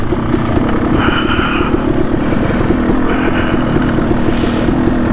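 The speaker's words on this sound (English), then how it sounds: "you just kind of let it idle and pull the clutch in and let it roll" A dirt bike rolls downhill on a trail with the clutch pulled in and the engine idling, a steady loud putter mixed with tire crunch and wind buffeting close to the rider.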